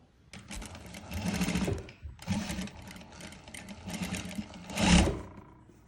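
Close sewing machine joining pieces of a child's dhoti pants, running in several loud bursts of rapid whirring separated by short pauses, the last burst the strongest.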